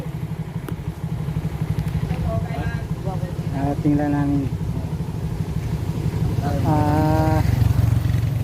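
A motorcycle engine idles steadily and low throughout, close by at a cave-side stop, while several people talk over it.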